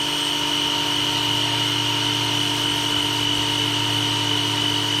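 A Dewalt 20V battery-powered pressure washer runs steadily and alone, its motor hum and spray hiss holding a constant level, with no talk over it.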